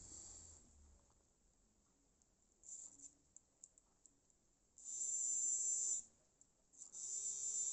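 A 1959 Tri-ang Jinty R52 model locomotive motor runs on a 9-volt battery, giving a thin, high electric whine that comes in short bursts with faint ticks and clicks between them, close and quiet.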